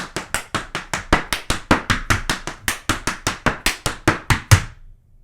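Irish dance hard-shoe footwork, a hop, treble and heel click combination, rings out as a fast run of about twenty sharp, loud percussive taps in steady rhythm, then stops.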